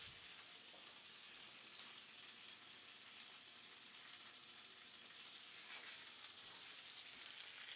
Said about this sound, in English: The sizzle has become quite loud. You can probably hear it.